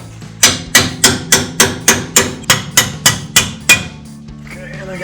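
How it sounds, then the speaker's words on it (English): A hammer striking a chisel to separate a 2016-2023 Toyota Tacoma front bumper, about eleven loud, evenly spaced metallic blows close by, then stopping. "I grabbed a chisel to try and get this apart because it does not seem to want to come apart at all."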